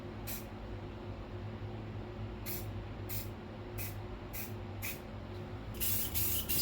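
Spray paint can hissing out white paint in short, sharp bursts, about six quick spurts followed by a longer spray at the end, over a low steady background hum.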